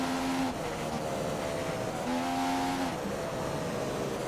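F1 car in F1 2015 at Silverstone powering out of a corner, its engine note climbing through rising revs in two bursts with a gear change between, loud and close.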